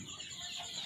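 Chickens cluck softly at a feeder as they eat, a brief, low, murmuring burst of fowl sounds at moderate distance.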